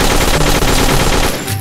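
Enemy gunfire in the farm-defense video game Dead Acres: a loud, dense rapid burst of automatic shots rattling continuously, close and overpowering, cutting off briefly at the end.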